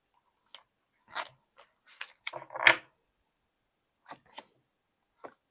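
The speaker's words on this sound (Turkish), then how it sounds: "Hemen buna bir kart seçelim." Tarot cards being drawn and handled from a deck, a scattering of soft, close papery flicks and slides separated by quiet pauses.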